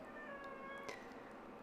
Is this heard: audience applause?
no